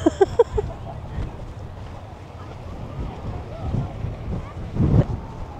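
Strong wind in Melbourne buffets a DJI microphone with a continuous low rumble and gusts, while a person talks over it.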